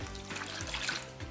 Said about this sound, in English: We're then going to add about 240 ml of water